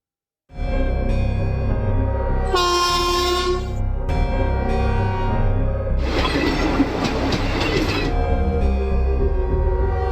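A train rumbles past close by, with a horn blast early on and a loud burst of rattling, clattering wheels midway through.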